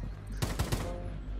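Three quick gunshots ring out in Rainbow Six Siege (Operation Ember Rise), sharp, close bursts spaced a fraction of a second apart over a low steady background.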